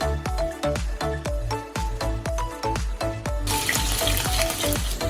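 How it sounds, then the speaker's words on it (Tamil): Chicken kebab sizzling loudly on a grill pan, with a steady frying hiss and a run of sharp clanks and scrapes as pieces are turned, the sizzle swelling brighter near the end. "இப்போ இந்த சிக்கன் கபாப் நான் திருப்பி போட்டுறேன்."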